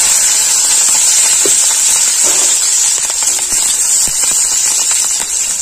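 Chopped onion and green chilli fry in well-heated oil, giving a steady, close, broadband sizzle with faint crackles throughout and no talking.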